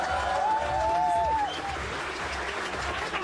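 Roast comedy show audience clapping in a sustained burst, with crowd noise and a voice rising over the applause before it thins out.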